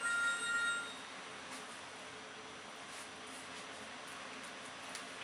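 A telephone rings with a bright electronic tone in the first second, fairly faint, then stops, leaving a quiet steady background hiss.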